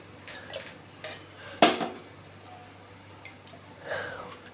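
A metal cooking pot is set down on a stove with one sharp clank, amid a few lighter knocks and rattles of kitchen utensils in a quiet room.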